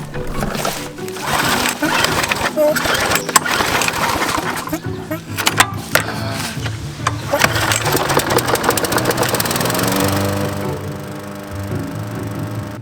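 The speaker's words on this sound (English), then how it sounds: "I had the lawnmower on the longest setting and I didn't have a catcher on it, but it was going pretty good" A lawnmower set to its highest cut with no catcher chews through long grass on a lot left empty for years, its engine a loud, steady drone with scattered cracks and snaps, settling into a smoother tone near the end.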